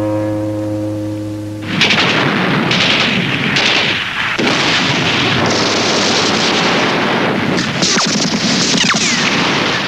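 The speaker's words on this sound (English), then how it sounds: "Behind the Soviet bombardment, Zhukov's 3rd Shock Army and his 47th Army erupted" A Soviet artillery bombardment during the Battle of Berlin begins after a brief tonal lead-in as a dense, continuous roar of distant booms and crackling blasts that rolls on without pause, with no speech over it.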